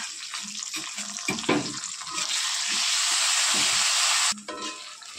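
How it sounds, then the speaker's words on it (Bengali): Garlic, onion and ginger paste frying in a pan after browned onions, a close sizzling hiss that swells to a steady roar, with stirring clatter and bits of muffled voice around it. "এবার আমি রসুন পেঁয়াজগুলোকে দিয়ে দিচ্ছি।"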